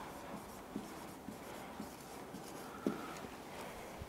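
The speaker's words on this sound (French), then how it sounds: "Alors, je vais écrire « elle est grande »." Marker or chalk writing on a classroom board, a series of soft faint strokes and taps spread across the stretch with one sharper tap near the end, over quiet room tone.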